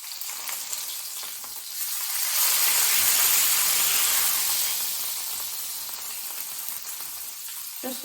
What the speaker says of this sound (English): Okay, I'm going to sear it on the sides.